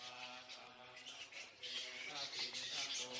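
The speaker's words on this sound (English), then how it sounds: "During the day, they hang out by roosting in trees, wings wrapped around their body, squabbling noisily and fanning themselves when hot." Flying fox bats roosting in trees squabble with a dense, noisy chatter of shrill squeaks and calls, rising in intensity partway through.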